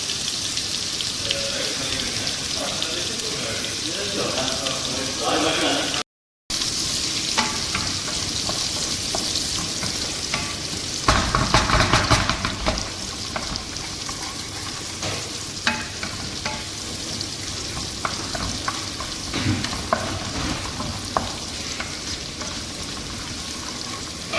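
Whole garlic cloves fry in hot oil for a Sri Lankan goat offal curry, a steady close sizzle with stirring scrapes and a brief louder burst of crackling partway through.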